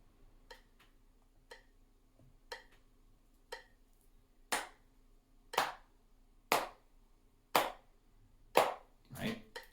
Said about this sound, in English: here's a metronome at 60 beats a minute